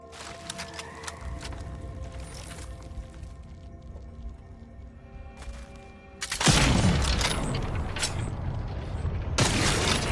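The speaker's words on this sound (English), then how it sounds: "I'm just showing like the normal sniper." Sniper rifle fire in The Outer Worlds 2 on very hard difficulty, with a sudden loud broadband blast midway, a second burst near the end, and mechanical game ambience beforehand.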